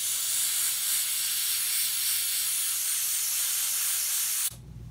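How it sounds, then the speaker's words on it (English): A steady aerosol spray of contact cleaner onto a Moog Taurus circuit board hisses continuously for several seconds, close and loud, then cuts off abruptly near the end. "I'm gonna spray it with some contact cleaner and air dry it"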